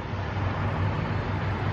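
A pickup truck motors away on a street in Pigeon Forge, Tennessee, heard as a faint, steady low road rumble and broadband hiss over a brief moment.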